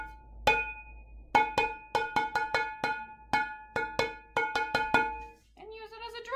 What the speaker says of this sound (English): I like to just grab a big pot sometimes.